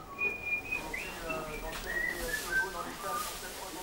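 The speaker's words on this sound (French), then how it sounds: "Dans le box, on commence d'abord par siffler." A person whistles inside a racehorse's stall, giving a series of thin, short, high notes at shifting pitches over a low background hum.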